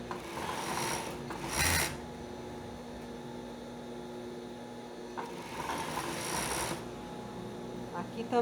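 Domestic sewing machine stitching swimsuit fabric together with its lining, seam over seam, in short motor bursts around 1–2 s and 5–7 s separated by quieter handling and rustling of cloth.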